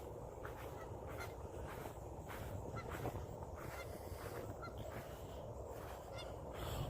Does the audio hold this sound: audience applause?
no